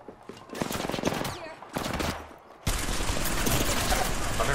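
An energy gun fires in a video game in rapid, crackling bursts, first in short volleys and then a sustained stream, loud and close.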